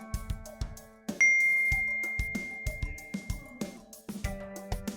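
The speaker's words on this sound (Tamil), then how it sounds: "உங்கள் ஃபோனுக்கு ஒரு நல்ல நோட்டிஃபிகேஷன் வந்திருக்கும்." A phone notification ding rings out clearly, sustained and fading, among a run of sharp tapping and clicking sounds in a quiet room.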